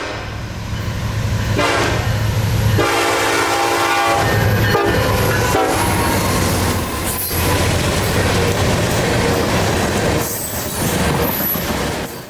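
Freight train B63109, part of a unit train combination on the S-Line, rolls past close by just north of Bushnell, a steady loud rumble of cars with wheel clatter and brief squeals, no talking.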